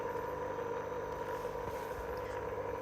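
A small water pump sits in a bucket and runs steadily to cool the spindle motor of a Milo 1.5 CNC machine, making a constant mid-pitched hum with no change for the whole stretch.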